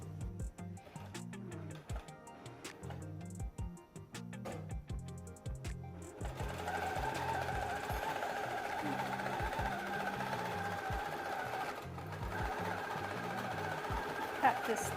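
Sewing machine running a single stitch across a quilted book cover design, a rhythmic close mechanical chatter in repeated bursts, then a louder steady whir, with a person talking over parts of it.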